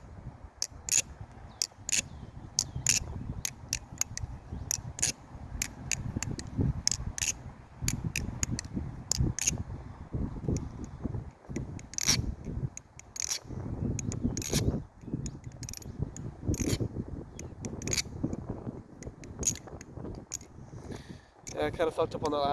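A Nabalis Wing trainer and false live balisong butterfly knife, lubed and tuned, flip with rapid, crisp metallic clicks and clacks in quick irregular bursts, fairly close, with a voice speaking at times between them.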